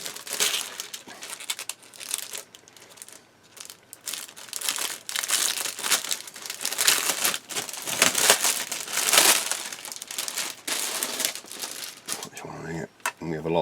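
Crinkly plastic wrapping around parts from a 1/35 Tiger I tank model kit rustles and crackles in repeated bursts, close and fairly loud, with someone talking in between.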